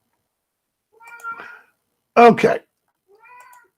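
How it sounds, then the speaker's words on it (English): A cat meows three times in short, clear calls; the middle one is louder and sharper, and a person speaks briefly among the meows. "The cat's going nuts."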